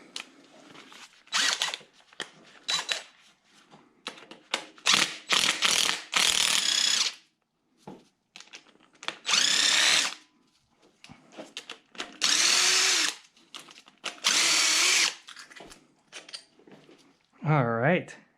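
A socket wrench ratchets as it removes cylinder head bolts from a 1950 Cadillac engine, making repeated loud bursts of rapid clicking separated by pauses. Occasional talk mixes in.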